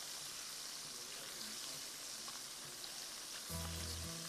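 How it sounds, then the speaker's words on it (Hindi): Chicken wings for hot and spicy wings fry in oil with a faint, continuous crackling sizzle, and a brief tonal noise cuts in near the end. "अच्छा फ्राई कीजिए।"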